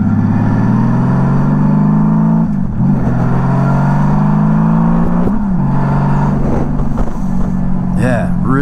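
A 1999 Honda Valkyrie F6C six-cylinder motorcycle being ridden at low speed, its smooth loud engine drone rising and dipping with throttle changes, with brief shifts between gears.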